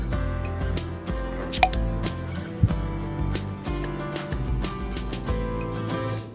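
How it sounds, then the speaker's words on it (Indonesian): A spoon stirs sugar into an iced cappuccino drink, with soft clinks and swishing liquid against a glass and one or two brighter taps, over a steady background hum. "Kita aduk sampai semuanya itu merata, gula dan cappuccino-nya itu tidak ada gumpalan di bagian bawahnya."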